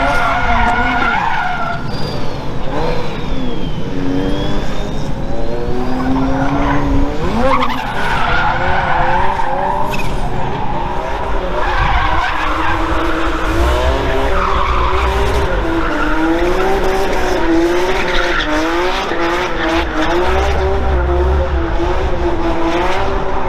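A BMW E36 drifts with tyres skidding and squealing continuously while the engine revs hard and wavers, loud and close, at a tyre-burning event, with crowd noise underneath.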